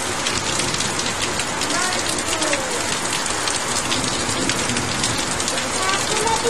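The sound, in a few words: heavy rain with a bit of wind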